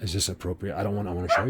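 A small dog yips and barks in short bursts close by, mixed in with a person talking over it.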